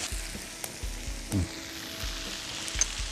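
Chopped onion sizzles steadily in a hot pan for a Thai chili sauce to go with fried shrimp, with a few soft stirring scrapes over a continuous frying hiss and no talk.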